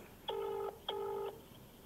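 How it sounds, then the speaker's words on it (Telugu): Ringback tone of an outgoing phone call: two evenly spaced electronic ring bursts, each about half a second long, faint and alone. "ఎస్, రింగ్ అవుతుంది."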